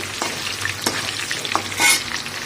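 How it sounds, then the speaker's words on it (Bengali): Saffron-coloured potatoes frying in hot oil, a constant crackling sizzle broken by a handful of scraping spoon strokes and clanks, close and alone without talk. "দেখুন আলুগুলো জাফরান দিয়ে ভেজেছি"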